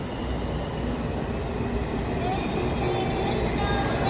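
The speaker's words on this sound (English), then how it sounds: "A 3000 series Green Line train to Branch Avenue arrives." A Washington Metro 3000 series Green Line train to Branch Avenue pulls into the station with a steady, loud rumble and rail noise that holds throughout, with a faint high whine near the end.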